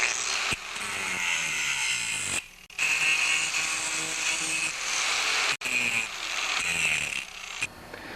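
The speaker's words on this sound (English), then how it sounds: "smooth out the edges with your grinder" A grinder smooths the edges of a metal washer hole during a Toro snowblower auger bushing repair, a loud close high whine with a few brief stops and restarts, no voices.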